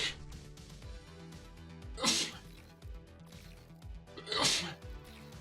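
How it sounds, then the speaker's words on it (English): Two loud, close sneezes about two seconds apart from a man casting a Beyond All Reason 1v1 match, over a steady bed of game music and sound effects. "I sneezed whilst doing that there"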